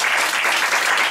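Fans at a Good Time Tour 2015 concert keep clapping for the band, a short stretch of thick, steady applause with no pauses.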